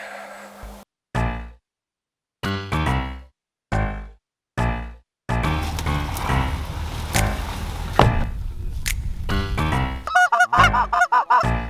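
Sharp honks from snow geese come in short, separated bursts, then a dense, loud clamor of many geese calling together, with rapid honking near the end.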